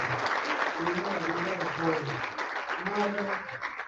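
A crowd claps in steady applause for a colleague, while a voice talks over it almost the whole time.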